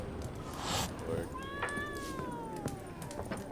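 A cat in the video game The Witcher 3: Wild Hunt gives one drawn-out falling meow against game ambience and rustling, fairly clear and near.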